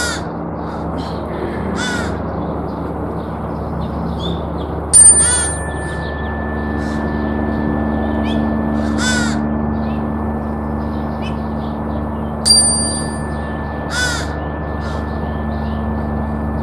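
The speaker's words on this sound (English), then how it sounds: "The birds are singing so sweetly. And the crow." Crows caw repeatedly in short harsh bursts at a backyard feeding spot, some close and loud, others farther off, while smaller birds sing sweetly and a couple of bright ringing tones sound over a steady low hum.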